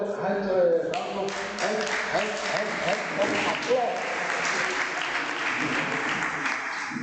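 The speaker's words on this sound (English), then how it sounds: "let's give them both a hand of applause" An audience applauds at a panel discussion on social cohesion, a steady wash of clapping with a few louder claps early on and faint voices beneath.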